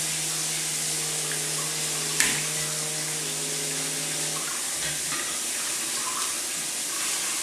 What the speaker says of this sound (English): now we're going to wash our cauliflower